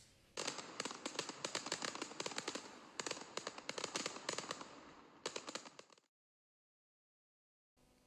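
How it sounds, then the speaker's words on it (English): Dense crackling fireworks burst in a rapid, continuous barrage, loud and close, then stop abruptly into silence before a faint resumption. "So let's have the Nottingham Forest fireworks"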